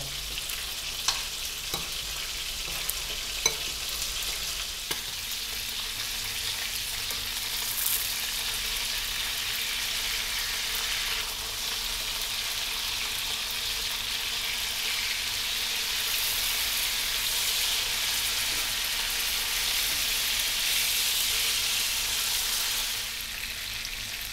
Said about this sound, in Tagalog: once na maprito na natin yung ating tuna